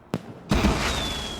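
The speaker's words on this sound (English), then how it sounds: "Fireworks?" Fireworks from the 2007 film Harry Potter and the Order of the Phoenix: a sharp crack, then a louder bang that rolls into crackling with a thin rising whistle.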